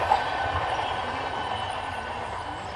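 Steady rumble and clatter of a train rolling past at a distance along a paddy field embankment, continuous for a few seconds.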